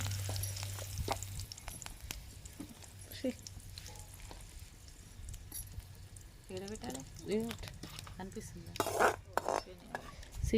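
Hot oil tempering poured into mint chutney sizzles and crackles, with clinks of utensils and a stir, growing louder toward the end; a voice speaks at times.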